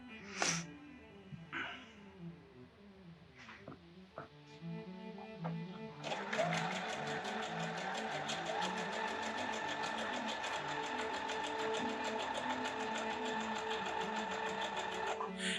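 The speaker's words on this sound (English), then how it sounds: "fold it in half, and throw a stitch along the fold" A sewing machine stitches along the fold of fabric for a surgical mask, with a few faint clicks and handling sounds first, then a steady, close, rapid mechanical whir of continuous stitching.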